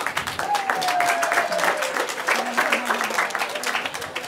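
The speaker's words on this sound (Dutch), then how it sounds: "Een groot applaus hier voor de uitreiker." An audience at a regional sports and business awards evening applauds an award presenter, giving steady, dense clapping that stays loud throughout, with a whistle and a few voices rising above the crowd.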